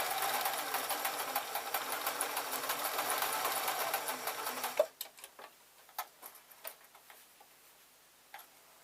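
A sewing machine running steadily on a cross stitch setting, a loud continuous mechanical whir that stops after about five seconds, followed by scattered clicks and handling taps.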